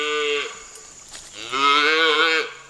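A cow on a farm moos twice, loud and close, a long low bellow followed after a pause by a second, stronger one.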